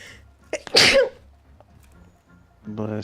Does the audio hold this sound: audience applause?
no